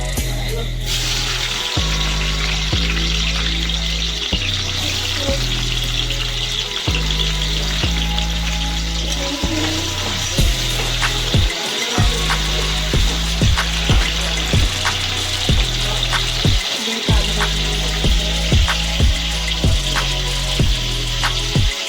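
Onion and tomato fry in a pan for a paneer mutter masala, a loud, continuous close sizzle with a rhythmic low thumping pulsing underneath throughout.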